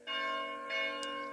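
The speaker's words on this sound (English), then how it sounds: "You can hear the church bells ringing behind me." Church bells ring from a Greek Orthodox church in a small Cypriot mountain village on Easter Friday, steady sustained tolling with rich ringing overtones, heard at a moderate distance from a hotel balcony.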